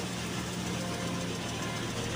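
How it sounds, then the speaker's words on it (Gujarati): A tractor-driven jumbo thresher runs at full speed during the wheat harvest, a constant droning mechanical hum with a steady low throb, heard up close without a break. "થ્રેસર ચાલુ છે"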